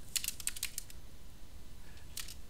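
Computer keyboard typing in two short bursts of quick, light key clicks, close and fairly quiet, with a pause between them and no talking.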